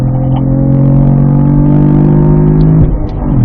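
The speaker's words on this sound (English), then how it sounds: "Alright, Bob, I'm going to start rolling to the throttle now." Cadillac V-Series car accelerating on throttle on a racetrack, a loud, steady engine drone rising smoothly in pitch from inside the cabin, then briefly dipping near the end as the revs shift.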